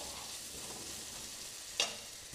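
Chopped onions and tomato sauté in a pan for a mutton curry, with a soft continuous sizzle and one brief scrape of a spatula partway through, quiet and close.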